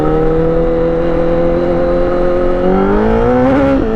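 A motorcycle with a titanium exhaust holds a loud, steady drone, then revs upward sharply near the end with a rising, raspy exhaust note, very close.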